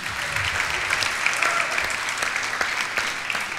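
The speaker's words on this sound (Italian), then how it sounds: "facciamo un bel applauso a Heineken." An audience at an awards show applauds the sponsor Heineken, dense and steady clapping that fills the whole stretch at a moderate distance.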